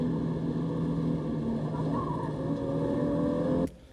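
Race car engine at Thunderhill's West Course holding a steady, loud drone as the car exits a corner and straightens out, ending abruptly with a sharp drop near the end.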